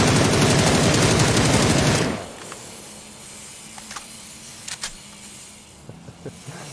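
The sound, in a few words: gunfire in the video game PUBG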